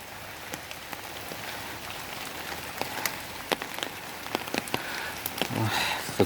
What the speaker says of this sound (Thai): ฝนก็ปล่อยนะ